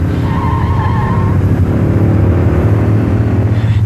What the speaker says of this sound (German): Der Wagen ist einfach um den Laster rumgefahren